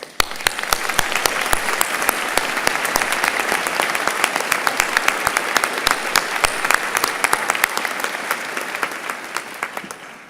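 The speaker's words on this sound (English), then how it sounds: "So please, let's just take a moment to applaud them all." Dense, steady applause from a large graduation audience at a university ceremony, many hands clapping together continuously and loudly without a break before fading at the end.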